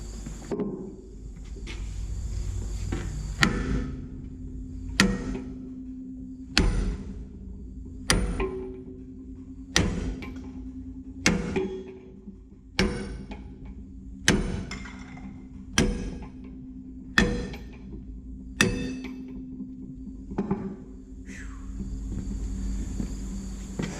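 A 20-pound sledgehammer strikes metal on a Mack truck restoration about a dozen times at a steady, slow pace, each blow a sharp clang that rings briefly before the next.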